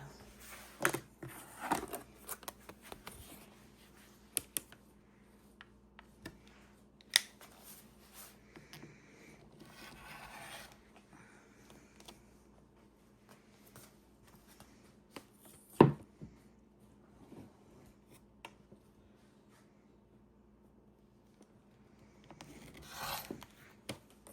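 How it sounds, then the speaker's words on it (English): Fabric strips are sliced for a quilt after the selvage edge is trimmed off, making faint, scattered scraping and cutting strokes with occasional soft clicks and thumps in a quiet room. "we'll cut the selvage off and slice these up"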